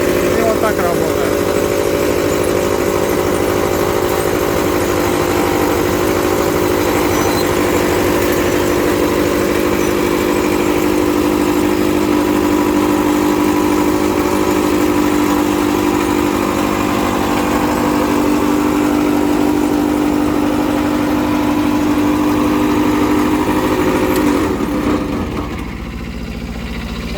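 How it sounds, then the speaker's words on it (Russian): An ISEKI Frontier 115 tracked mini grain combine harvester runs with a loud, steady mechanical drone and hum, holding evenly for nearly the whole stretch before easing slightly near the end. "Вот, собственно, так функционирует наш комбайн."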